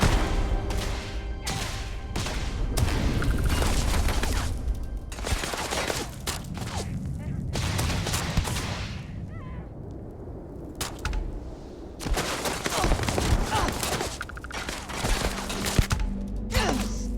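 Rapid gunfire from a weapon in the space game Starfield, crackling in dense repeated bursts through most of the stretch, with a brief lull midway before the shots resume loud and close.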